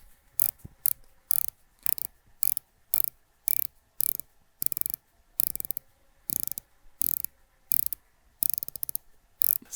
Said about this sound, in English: The bezel is a unidirectional dive bezel with 120 clicks